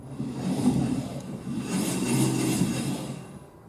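The electric motor of a Cappuccino EV conversion spins its raised rear wheel under throttle, making a low, steady whirring rumble that swells and fades with a faint high whine on top, close by.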